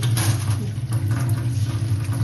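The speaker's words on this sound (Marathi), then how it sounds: "हे आपण चांगलं नळाखाली स्वच्छ धुवून घेणार आहे" Tap water runs steadily over sorghum (jowar) grains being washed at a kitchen sink, a close, continuous splashing rush with a low hum beneath, no talk.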